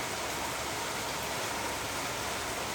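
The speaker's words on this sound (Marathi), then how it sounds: "बाहेर आहे बघा पाऊस जोरदार आहे" Heavy monsoon rain falling outside in a Konkan village, a soft, even, hissing wash of downpour that stays constant and somewhat distant, with no voices.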